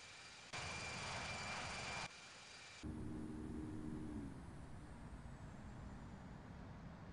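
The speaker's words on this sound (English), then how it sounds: "Delta 388 is taking off runway 32 left. Departing straight out." Delta jet taking off from runway 32 left at Chicago O'Hare in the Infinite Flight simulator: a steady synthetic engine roar that cuts in and out, then a rising spool-up whine that settles into a continuous hum, with no talk.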